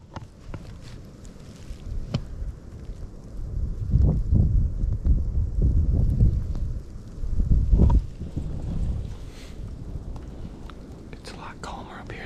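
Wind buffets a microphone outdoors during a ground bowhunting setup on Iowa public land, with low rumbling gusts that swell and fade, loudest midway, and faint whispered speech at times.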